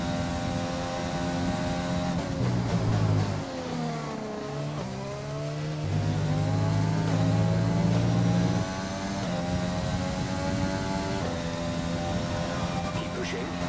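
F1 race car engines in the video game F1 2020 during a Bahrain race: loud, high-pitched engine whines rise and fall through gear changes, with several cars audible together.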